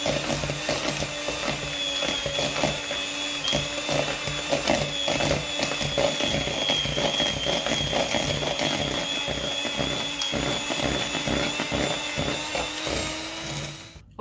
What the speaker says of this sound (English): we're going to put the food processor in the bowl first with the ingredients, okay, and then we're going to slowly turn it on